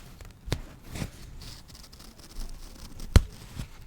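A few sharp, brief scratchy tears as a pin snags through satin fabric, with quiet rustling between them and one louder rip near the end.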